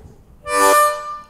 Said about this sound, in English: I'm starting off using the tongue blocking technique,